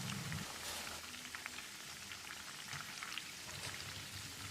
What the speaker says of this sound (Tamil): இப்போது கொஞ்சமாக கருவேப்பிலையை தூவி பொரிய விட்டுடலாம்